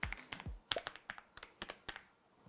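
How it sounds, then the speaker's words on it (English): Crisp mechanical key clicks from a MelGeek keyboard being typed on, a quick irregular run of close, distinct taps with a couple of deeper thocks near the start, no talking. "Wanted to shout out this really cool keyboard. It's from Mel Geek."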